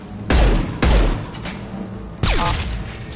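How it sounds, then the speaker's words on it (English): Gunfire in the video game Mass Effect 2, three loud, booming shots, two in quick succession and then a third after a pause, each trailing off into reverberation. "He's gunning down his own crew to keep control."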